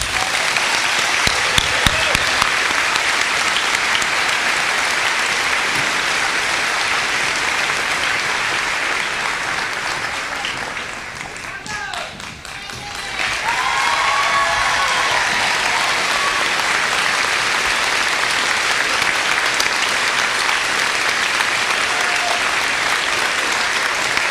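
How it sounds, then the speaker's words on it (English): A large audience at the Triton High School class of 2016 graduation applauds the graduates: dense, steady clapping that runs for about twenty-four seconds, dipping briefly midway before swelling again. "let's get a round of applause for our graduates"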